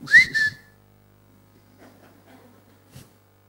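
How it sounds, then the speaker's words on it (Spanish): A man gives a short two-part whistle at someone, sharp, close and loud, then only faint background sounds follow in near quiet. "¿me silbaste?"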